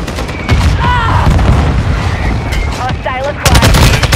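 Gunfire in Call of Duty: Modern Warfare II, loud close bursts of automatic weapons and booming shots in a busy battle mix, with chirpy game effects and radio voices underneath.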